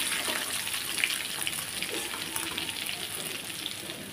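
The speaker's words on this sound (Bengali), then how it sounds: "তো লাল করে ভেজে নিচ্ছি।" Prawns frying in a pan, alongside potatoes, with a steady, soft crackling sizzle throughout.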